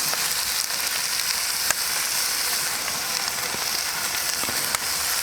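Beef and bamboo shoots fry over high heat on a Kamado Joe Classic II grill, a loud continuous sizzle with occasional sharp clicks of the stirring utensil against the pan.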